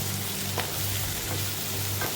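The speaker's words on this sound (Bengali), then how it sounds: "সব একসাথে ফ্রাই করব।" Potatoes, onions and peanuts frying together in a pan give a steady, close hiss of sizzling oil, broken now and then by faint clicks of stirring, with no voices.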